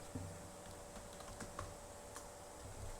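Soft, faint clicks of typing on a computer keyboard tap out irregularly against a quiet background hiss.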